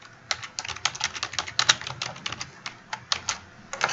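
Password being typed on a computer keyboard: a quick, uneven run of crisp key clicks, close and clear, with short pauses between bursts and no voices.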